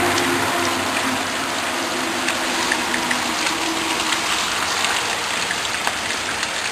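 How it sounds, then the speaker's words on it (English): Steady rain falls as a thunderstorm approaches, making a dense, even hiss of drops hitting surfaces for the whole stretch, close and fairly loud with no voices. "Rain's starting to come down a little bit better now"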